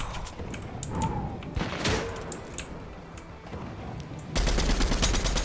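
Gunfire in a shooter video game, scattered sharp shots and bursts through the clip ending in a loud rapid automatic volley, up close.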